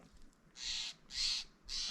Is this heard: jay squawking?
yes